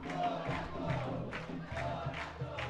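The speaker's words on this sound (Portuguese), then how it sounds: "E a torcida vai falando o nome de todos os jogadores do Guarani" A stadium crowd at a Guarani youth football match chants players' names in a rhythmic, swelling murmur, steady and moderately distant, with repeated vocal surges every second or so.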